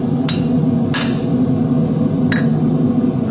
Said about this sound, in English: I'm going to use that edge to draw the clip and the flat of the hammer